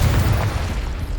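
A Confringo fire-blast spell in Hogwarts Legacy explodes with one short, loud boom that fades into a rumbling tail.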